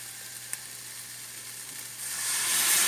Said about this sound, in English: So, just to deglaze the pan, probably about 1/4 of a cup of wine